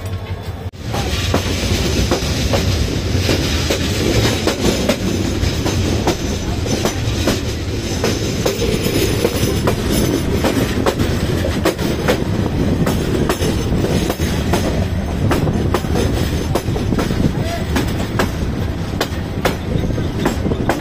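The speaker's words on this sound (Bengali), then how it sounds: "তো ছেড়ে দিল আমাদের কিশোরগঞ্জ এক্সপ্রেস" The Kishorganj Express passenger train from Dhaka runs slowly on a rough section of Bangladeshi track, producing a loud, continuous rumble with rhythmic clickety-clack and occasional wheel squeal, heard from inside the swaying carriage.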